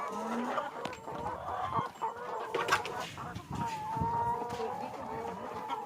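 Chickens on an egg farm cluck and murmur continuously in a busy, close-up chorus, with occasional louder squawks and no talking.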